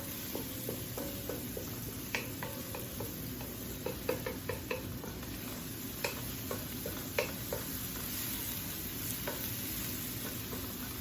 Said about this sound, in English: Our onions and garlic been sauteing.